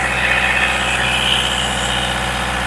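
Diesel engine running steadily during a fuel-system purge using a homemade kit from an old mineral water bottle, a loud, continuous droning rumble with a raspy upper whine and no variation.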